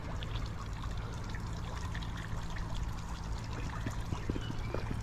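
A water fountain topped with three horse figures trickles and splashes steadily outdoors in Scotland, a constant nearby wash of falling water with a low hum underneath.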